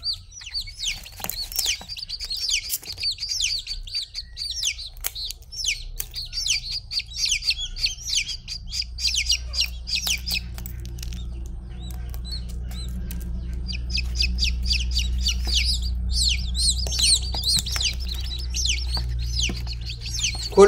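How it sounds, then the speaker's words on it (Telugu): A chicken chick cheeps from inside its egg while hatching, giving rapid high-pitched chirps in repeated bursts that are close and fairly loud over a low background hum. "అది గుడ్డు లోపల ఉన్నటువంటి ఒక పిల్ల, కోడి పిల్ల ఏదైతే ఉందో ఆ పిల్ల అనేది లోపలే అరుస్తుంది"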